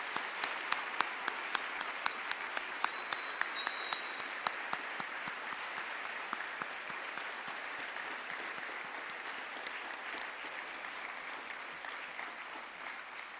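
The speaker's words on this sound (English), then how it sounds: "Let's give him one more round of applause" Sustained applause from an audience, steady clapping throughout with a few sharper claps standing out early, gradually settling to an even roar.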